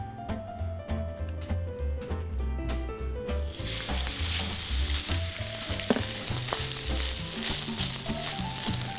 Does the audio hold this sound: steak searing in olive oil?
yes